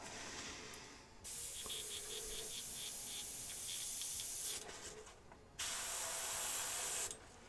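Airbrush spraying thin green paint onto a miniature comes as several bursts of steady, close hiss separated by short pauses.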